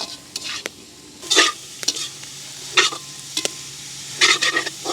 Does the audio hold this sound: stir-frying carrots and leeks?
yes